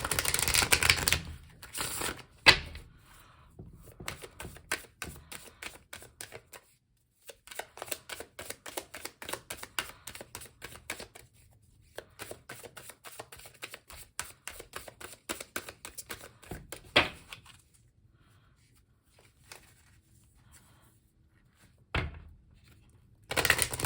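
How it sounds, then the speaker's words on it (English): Tarot cards shuffled by hand in bursts of quick, papery riffling and flicking, fairly close and moderately loud, with short pauses between the bursts and no talking. "we're just gonna go ahead and shuffle this last deck"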